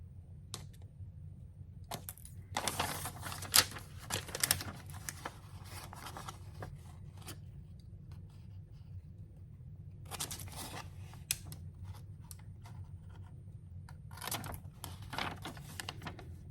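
Scissors snipping through an old greeting card being trimmed for junk journal ephemera, sharp crisp cuts in short clusters separated by quiet pauses, close and fairly soft.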